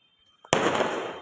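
Firecrackers bursting outdoors during a Karva Chauth night celebration, one sharp loud crack after a faint pop, followed by a dense crackling burst that carries on to the end.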